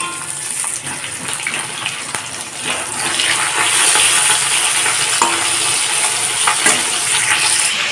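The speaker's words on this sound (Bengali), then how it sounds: "গ্যাসটাকে লো ফ্লেমে রেখেই মাছগুলোকে ভাজব।" Parshe fish frying in a pan on a low gas flame, a loud continuous sizzle and crackle that grows fuller partway through, close up and without speech.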